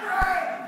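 A crowd at a live pinball awards show cheers for a presenter, a brief, steady roar of many voices close by.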